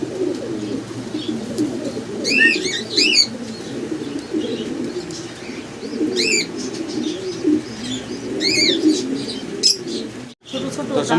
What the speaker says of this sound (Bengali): অনেক বড় বিগ সাইজের একটা আমরা বার হুমা কবুতর দেখতে পারতেছি